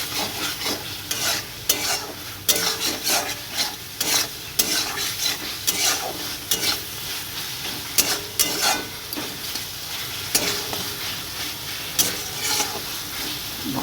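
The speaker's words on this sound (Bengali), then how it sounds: "তারপর আবার ভালো করে কষিয়ে নেব।" Cumin paste frying and being stirred in a pan for a Bengali dish, a continuous sizzle punctuated by frequent rhythmic scrapes and clinks of a spatula against the metal, close and lively throughout.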